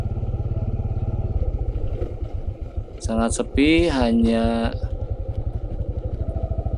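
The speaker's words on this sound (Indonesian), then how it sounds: "suara motor dan angin yang terdengar saat ini" A motorcycle engine putters steadily in a low, pulsing rhythm while a person talks over it, with some rushing wind noise in the background, riding through forest.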